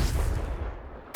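A Confringo fire spell in Hogwarts Legacy bursts with a deep, booming blast that fades over about a second, followed by a second sharp hit at the very end.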